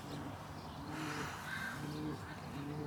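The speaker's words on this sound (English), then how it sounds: "Cracking wee pigeon, eh?" Soft pigeon cooing from a young bird held in the hand, low repeated coos close by over a steady background murmur, with no talk over it.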